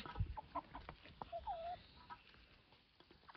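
Ducks, including drakes starting to compete, on a summer day outdoors, giving a few short, scattered quacks and calls at close range amid faint rustling and pattering.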